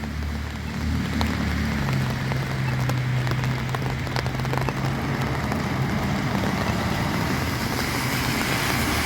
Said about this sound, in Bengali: ভ্যানকুভারে তখন বৃষ্টি হচ্ছে।